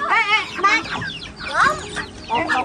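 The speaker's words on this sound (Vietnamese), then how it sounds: "Bây giờ là mình về bắt gà này." Chickens cluck and squawk in agitated bursts while being caught in a rural Khmer village in Soc Trang, Vietnam, several loud, close calls in quick succession with brief pauses between.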